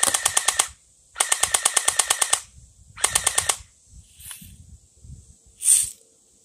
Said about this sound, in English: now we're going to be shooting the box with the Uzi